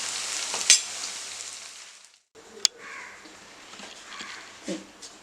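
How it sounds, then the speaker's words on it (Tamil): Vegetable koftas sizzle and crackle in hot oil in a pan, a steady close frying hiss with a brief gap and a few sharper pops and stirring sounds. "இப்போ இது நல்லா ஃப்ரை ஆகிடுச்சு,"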